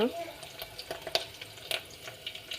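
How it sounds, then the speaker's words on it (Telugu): Prawns frying in a pan for a tomato prawn curry give off a close, crackling sizzle with scattered sharp pops and spatters. "మంచిగా వేగుతున్నాయి. చూడండి ఫ్రెండ్స్, మంచిగా ఫ్రై అయినాయి"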